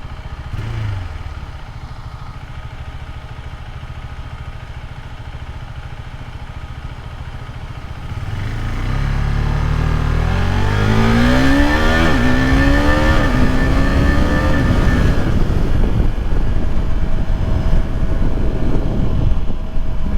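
A 2023 KTM RC390 idles low, then revs hard and climbs through the gears with quick-shifter changes, a loud rising engine whine with several upward sweeps and sustained high-rpm roar.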